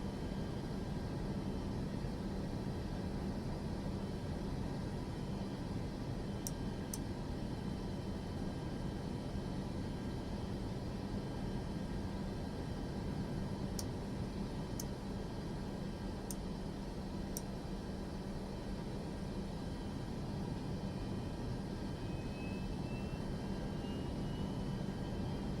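Aircraft engines starting up in Microsoft Flight Simulator 2024 give a faint, steady low drone with a few sparse, soft ticks, unbroken and without talk.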